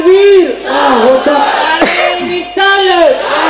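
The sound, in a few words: crowd shouting in response to a takbir call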